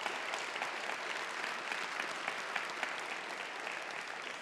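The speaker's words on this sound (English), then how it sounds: "Please, let's give them a round of applause." A college audience gives steady, continuous applause at a State of the College address, with many hands clapping at once in a dense, even wash that sounds somewhat distant.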